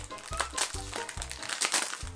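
Blind box finger puppet packaging crinkles and crunches in repeated rhythmic bursts as hands work at opening the stiff wrapper, close and moderately loud, with no voices.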